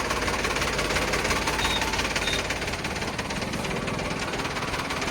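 A Sonalika 745 tractor engine runs close by, a loud, steady diesel clatter with a continuous knocking rhythm that dips slightly partway through.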